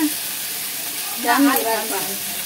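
Sambharo tempering, a vegetable relish seasoned in hot oil, sizzles and hisses steadily in a pan, with a brief louder crackle and stirring partway through and a faint voice underneath.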